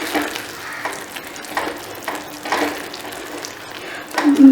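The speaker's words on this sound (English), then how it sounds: "So our Paneer Bhurji has been cooking nicely, and this oil that has come up ensures that our matar and the corn will be cooked nicely in it." Paneer bhurji with matar peas and corn frying in oil, a steady close sizzle with rhythmic scraping stirs of a spoon through the pan.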